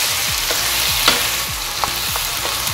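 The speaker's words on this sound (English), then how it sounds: "fry the chicken along with ginger, garlic and dry ingredients" Chicken frying with ginger, garlic and dry spices, a loud, continuous close sizzle with a few faint stirring knocks.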